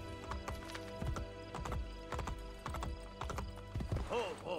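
Horse hooves clip-clop in a rhythmic trot in the Xbox 360 game Assassin's Creed Brotherhood, with periodic thudding hoofbeats, a neigh near the end and game music underneath.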